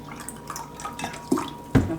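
Water splashes and trickles into a jar of beets, with a couple of louder pours near the end, close by and without talking.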